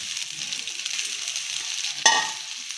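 Cooked rice and egg stir-fry in a hot pan with a steady, bright sizzle, punctuated near the end by a sharp scrape of the spatula against the pan.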